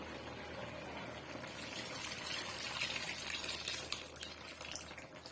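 Tamarind extract pours into a pot for a spicy okra kara kuzhambu, a soft continuous liquid gush and trickle that stays fairly even and close, with no talking.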